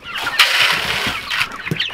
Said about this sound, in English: I'm glad to see the chickens all getting along well